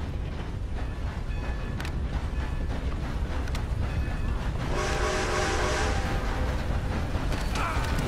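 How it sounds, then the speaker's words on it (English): A train passes in Red Dead Redemption 2, a continuous low rumble of rolling cars with clanks, swelling into a louder, brighter grinding rush of wheels on rails toward the end. "There's the train!"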